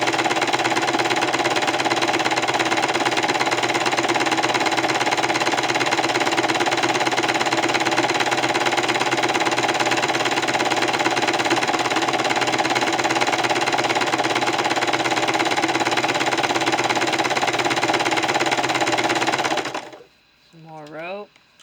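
A sewing machine stitches braid onto a rope bowl, running in a steady continuous whir close up for about twenty seconds before stopping abruptly, followed by a brief squeaky handling sound.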